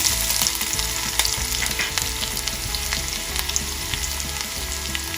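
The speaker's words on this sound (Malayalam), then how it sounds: "കടുക് നന്നായിട്ട് പൊട്ടിയതിന് ശേഷം വേണം ചെറിയ ഉള്ളി എല്ലാം ഇടാനായിട്ട്" Shallots sizzling with mustard seeds in hot coconut oil for a mango curry, a dense, steady crackle with sharp pops and spits throughout, close and without voices.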